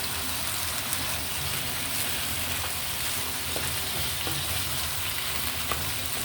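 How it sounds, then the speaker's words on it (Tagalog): Glutinous rice is stirred into a pot of simmering arroz caldo, with a steady, dense sizzle and bubbling throughout and faint scraping, heard up close with no talking. "Ngayon naman, isabay natin isang kutsa yung ating glutinous rice na hinaluan din natin ng rice."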